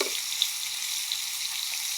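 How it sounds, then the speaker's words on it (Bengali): Rohu fish pieces fry in a pan with a sprinkle of salt, giving a constant bright sizzle and a few small pops, steady and close with no talking. "তো দেখুন ভাজা হচ্ছে"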